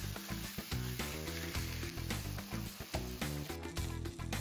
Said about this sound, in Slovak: Stejk vložíme na rozpálenú panvicu.